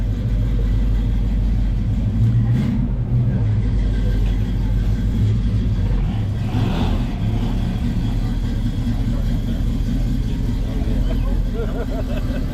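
A 1969 Chevrolet Camaro with a 327 engine rumbles steadily at an outdoor car show in Kingsport, Tennessee, holding a low idle drone with little sign of revving while people talk nearby.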